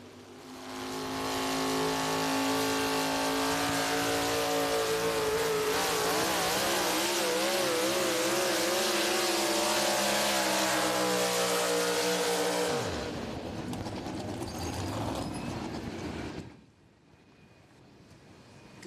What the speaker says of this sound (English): Breaking the RPMs up is the Hyper Harvester Kevin Lindstrom.